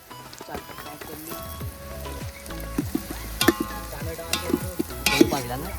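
Tomatoes dropped into a frying pan over onions sizzle steadily while a spoon stirs and scrapes in rhythmic strokes, with a voice speaking briefly in the background.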